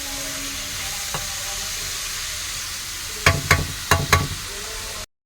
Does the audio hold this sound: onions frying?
yes